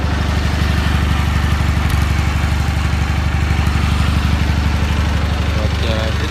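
A Cub Cadet 782 lawn tractor's repowered engine idles steadily and close by, a low rumbling chug that holds even throughout with a faint clatter on top.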